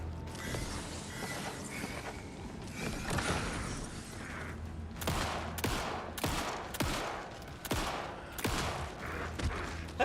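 Video game gunfire from Alan Wake 2 during a mini boss fight: a run of sharp, loud shots in quick succession over a murky, creaking game ambience, with no talking.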